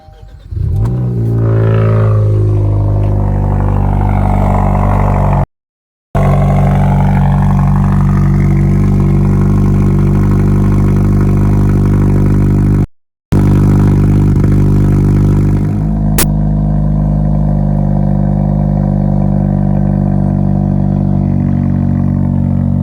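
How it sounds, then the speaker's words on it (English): A 2020 Kia Forte GT with its muffler and resonator removed fires up from a cold start, rising with a loud rev and then settling into a deep, raspy idle heard up close with two brief dropouts. "Hopefully it'll give you a good idea of what it sounds like for a cold start."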